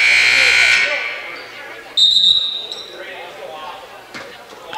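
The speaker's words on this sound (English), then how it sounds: "Inadvertent buzzer across the way." An inadvertent game buzzer goes off across a gym during a women's college basketball game, a sharp electronic tone cutting through crowd murmur and echoing hall noise while a commentator talks over it.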